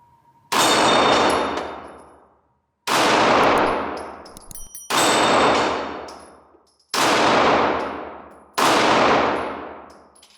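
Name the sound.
FN 509 9mm pistol shots hitting steel flip targets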